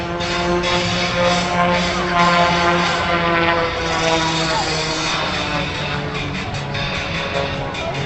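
At an air show, an aerobatic propeller airplane engine drones steadily and loudly, its pitch wavering as the aircraft maneuvers, with a low harmonic hum throughout.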